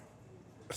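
A single sudden sneeze bursts out at the very end, following a quiet stretch of room tone during a casual podcast conversation.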